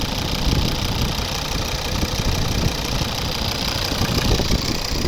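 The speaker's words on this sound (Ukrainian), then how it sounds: "Хороша робота двигуна, дуже хороша робота." A 2012 Volvo V50 2.0 D3 diesel with automatic transmission idling steadily with a low, even knocking rumble, close and continuous throughout with no talk.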